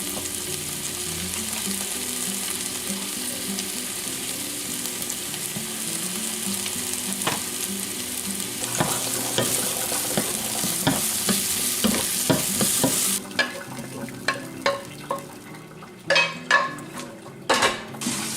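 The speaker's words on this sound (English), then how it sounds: "I'm going to cook a few tomatoes over here in the skillet" Tomatoes sizzle and fry in a skillet for soup, a steady close hiss joined later by clinks and scrapes of a utensil stirring against the pan, with no voices.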